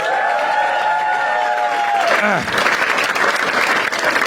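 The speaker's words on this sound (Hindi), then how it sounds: "एक बार गौरव भाई के लिए सब ताली बजा दो।" A stand-up comedy show audience claps for Gaurav: a sustained tonal sound bends downward and fades, then a loud burst of crowd applause with some cheering takes over and holds to the end.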